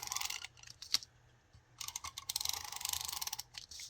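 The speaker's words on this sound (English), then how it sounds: "I'm going to use my sticky strip runner by Tombow" Soft, close clicking and scratchy rasps as a Tombow adhesive tape runner is pressed and dragged along paper in short bursts, quiet, no talking.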